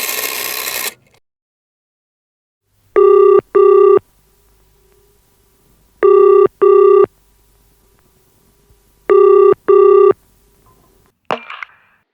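Ringing from a call placed on a public phone box, three pairs of loud, clean electronic rings evenly spaced with silence between, preceded by a brief rustle and ending with a short clunk.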